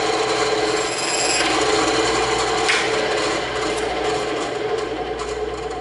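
A bandsaw slices a circle out of EVA foam with a continuous close, loud rasping cut that runs steadily throughout without pause.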